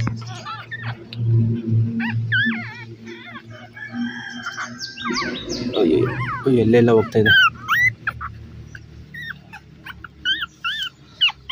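A young beagle puppy whines and yelps in high, wavering cries, close by, while a person talks quietly underneath.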